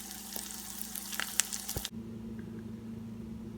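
An egg fries in a pan with a soft, steady sizzle and a few small pops, then the sound abruptly drops to a quiet low hum.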